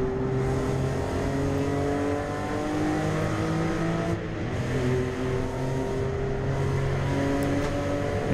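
A BMW E90 325i race car runs at full throttle on the Nürburgring Nordschleife, its engine a loud, steady, sustained drone heard from inside with no speech.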